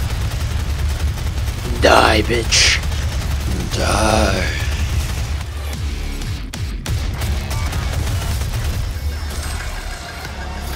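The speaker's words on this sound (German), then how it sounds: "Die Chain Gun heißt sie." Rapid bursts of chain gun fire from the video game DOOM, loud mechanical gunfire with engine-like droning underneath, while someone shouts over it.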